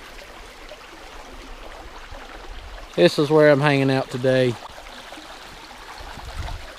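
Creek water runs with a soft, continuous hiss and trickle, close by at a mountain campsite in North Carolina, carrying on alone before and after a brief spoken line.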